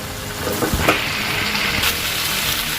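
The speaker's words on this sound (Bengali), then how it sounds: "এবার পটলটা দেবো, দিয়ে এটাকে 2 মিনিট কষতে থাকবো" Potato and pointed gourd sautéing in a pan for an omelette curry, giving a steady close sizzle and hiss with a few soft scraping stirs and clinks.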